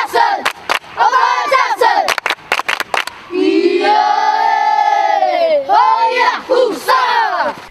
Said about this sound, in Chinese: 激励士气的欢呼声